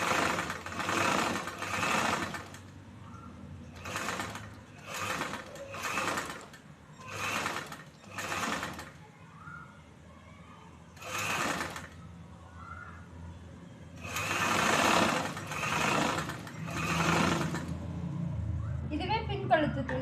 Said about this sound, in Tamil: மடிப்புக்கு மேலேயும் தையல் வரணும்.